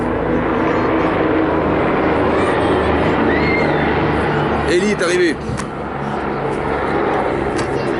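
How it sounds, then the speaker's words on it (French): A helicopter's loud, steady engine and rotor roar fills the scene throughout, while a person speaks briefly over the noise. "Hélicoptère."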